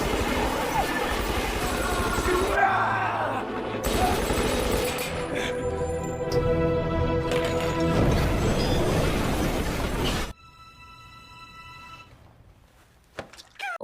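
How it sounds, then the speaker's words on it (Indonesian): A film police shootout erupts in dense bursts of gunfire and crashing impacts, loud and chaotic with shouting voices mixed in, before cutting to a quieter stretch of electronic ringing tones near the end. "akhirnya terjadi tembak-menembak dengan polisi."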